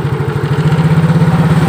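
Motorcycle engine idling steadily just after being kick-started, a close, even low putter with a regular pulsing rhythm and no talk.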